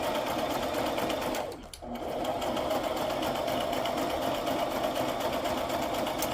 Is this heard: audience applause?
no